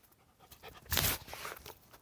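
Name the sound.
dog panting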